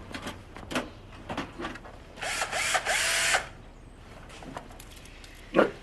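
A power tool buzzes loudly for roughly a second with a grinding, whirring tone, preceded and followed by scattered knocks and handling clatter in a quiet room.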